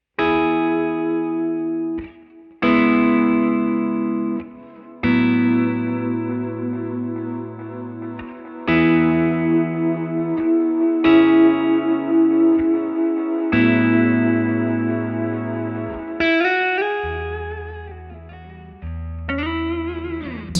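An electric guitar runs through a frozen delay effect on a Blackstar ID:X amp, sustaining loud chords that ring on without a break and shift from one chord to the next every few seconds.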